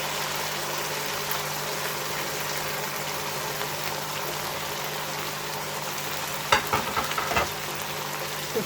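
Minced meat (keema) frying in a pan, a steady low sizzle under a faint hum, with a few clanks of a spoon stirring near the end.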